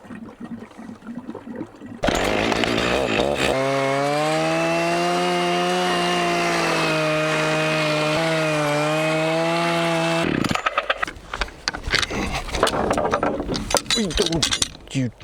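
A chainsaw debarking logs revs loudly and steadily for several seconds, then drops off into clattering and scraping noises close by.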